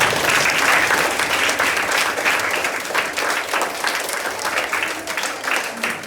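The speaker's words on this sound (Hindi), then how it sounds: "एक बार दोबारा अपने लिए जोरदार तालियां बजा दीजिए" An audience of schoolchildren claps loudly together for several seconds, a dense, steady wash of applause that gradually thins slightly toward the end, with a few voices mixed in.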